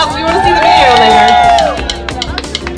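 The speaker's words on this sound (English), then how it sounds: "Everybody give him a round of applause" A crowd at a giveaway event claps, cheers and whoops for a prize winner, loud and close, mixed with chatter and a tonal sound that glides across the middle before the clapping thins out.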